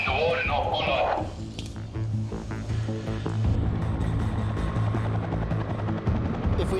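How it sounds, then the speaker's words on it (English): A New South Wales Police helicopter throbs steadily overhead above North Bondi beach, its rotor chop loud and continuous, with a brief burst of voices at the start. "New South Wales Police helicopter Polair 1 appears over North Bondi."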